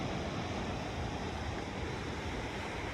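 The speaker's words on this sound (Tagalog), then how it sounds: "Calming breeze ng dagat dito." Soft ocean surf and a light breeze at Lyall Bay, Wellington, New Zealand, in the early morning, a steady broad wash with no distinct breaks, faint and continuous with no voices.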